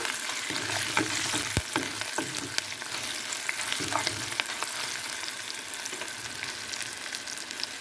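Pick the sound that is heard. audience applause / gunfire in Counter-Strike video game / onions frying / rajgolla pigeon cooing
onions frying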